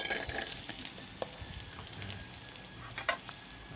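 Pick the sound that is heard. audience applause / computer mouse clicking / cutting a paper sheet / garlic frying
garlic frying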